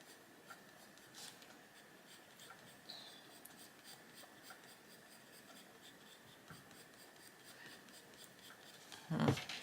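A coloured pencil drawn across adult colouring book paper in short feathery strokes makes a soft, faint, repeated scratchy rasp, steady and quiet, ending in a brief louder knock.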